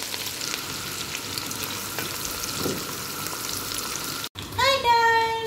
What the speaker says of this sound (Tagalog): saute lang natin yung ating onion and garlic